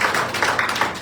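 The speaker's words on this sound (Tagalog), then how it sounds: "Isa pang palakpak para po sa Panginoon" Church congregation clapping together during a worship service, a dense, steady patter of many hands sustained through the moment with small rhythmic swells, fairly close and with no talking over it.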